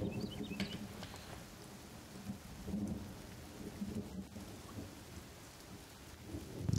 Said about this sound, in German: Regnet es hier drin? Hier drin regnet es auch. Es regnet rein.